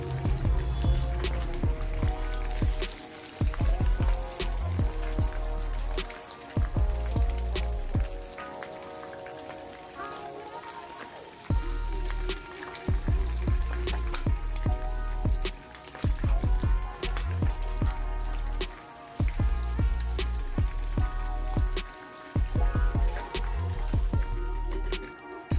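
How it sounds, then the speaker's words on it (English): Goat meat frying in reused hot oil in a covered pot, giving a steady, fine crackling sizzle like rain on a surface that drops out briefly in places, fairly quiet and with no talk. "I'm using the same oil to fry my goat meat"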